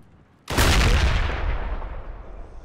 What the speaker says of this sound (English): Friendly shooting at him.